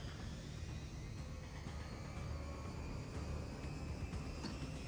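A steady, fairly quiet droning roar of an airplane flying in a Dead Rising 3 cutscene, holding level throughout without a break.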